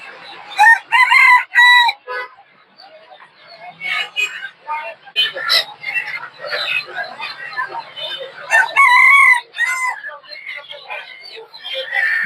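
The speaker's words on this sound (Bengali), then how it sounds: "প্রচুর পরিমাণে দেশি মুরগি আছে এখানে" Native chickens cluck loudly in repeated bursts while a rooster crows nearby at a poultry market in Tongi, the calls coming in clusters with short quieter gaps.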